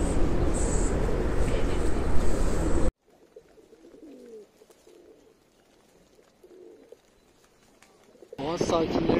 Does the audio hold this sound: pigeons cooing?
yes